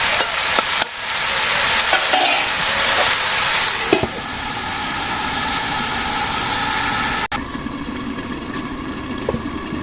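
Fish charchari sizzles and fries in a pan as it is stirred, a loud steady hiss with scraping stir strokes and occasional clinks, close up, with no talking.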